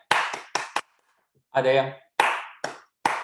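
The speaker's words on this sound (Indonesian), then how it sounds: "Kalau saya katakan coba tepuk tangan dengan cepat" Hand claps in short bursts: a quick run of four sharp claps, a pause, then a denser flurry of fast claps and a few more scattered claps, close and fairly dry.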